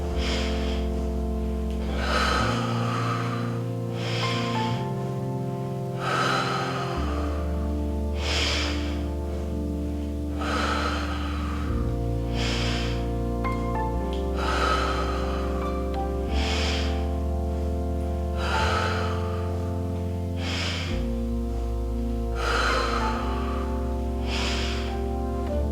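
Strong nasal breaths rise and fall in a steady rhythm, sharp inhales and exhales paired as little pulses during an abdominal exercise, loud and close over a sustained musical backing.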